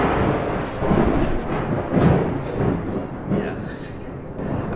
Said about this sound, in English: I think it's gonna thunder and rain here very shortly